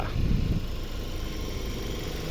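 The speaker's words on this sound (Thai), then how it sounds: "เครื่องยนต์เดินเรียบๆนะครับ ไม่มีสะดุดเลยนะครับ" A Toyota Soluna Vios 1.5 VVT-i engine idles steadily up close, a low even rumble with a brief louder burst at the start, no talking.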